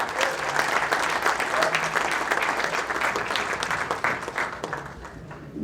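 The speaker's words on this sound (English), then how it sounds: "Please give a round of applause for Mr. Manveer Singh." Sustained crowd applause at a Sikh American Chamber of Commerce gala, full and even across the room, easing slightly near the end.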